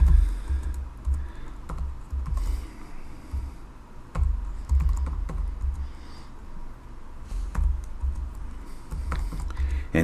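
Fingers type data into an Excel workbook on a computer keyboard, producing a steady patter of close, crisp key clicks with irregular rhythm and occasional louder keystrokes.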